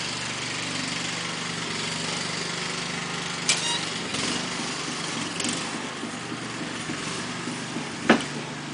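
A reel-to-reel tape deck's take-up motor runs with a steady, close mechanical hum and faint whir, with a couple of brief clicks and knocks over the continuous drone.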